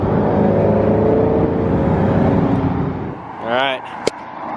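A Mopar car in Big Bear, California, revs with a steady engine drone, then sweeps past with a brief rising and falling whine, heard near and fairly loud under some background voices.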